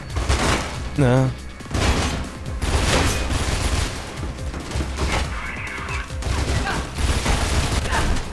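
Dense bursts of gunfire and crashing effects from the video game Mirror's Edge fill the clip, with a voice talking over the noisy action.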